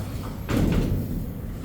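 The heavy metal gate of a Montgomery hydraulic freight elevator at Hulen Mall in Fort Worth, Texas, gives one close, loud scraping clatter as it is pushed across, then settles into a rumbling hum.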